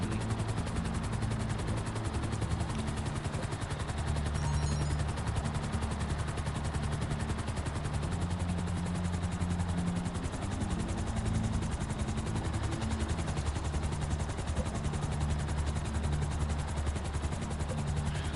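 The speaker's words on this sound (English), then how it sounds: "the helicopter's gonna get me places faster" Helicopter flying in GTA Online, a steady loud rotor and engine drone running continuously throughout with dense broadband noise and no speech.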